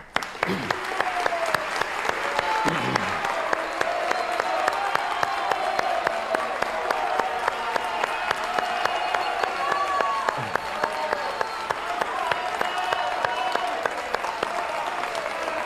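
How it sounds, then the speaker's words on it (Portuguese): A studio audience at a Globo presidential debate in 2018 applauds the candidates in a sustained, dense burst of clapping, with a few voices audible faintly underneath. "Muito obrigado pela presença da plateia, que atendeu prontamente ao pedido de aplausos."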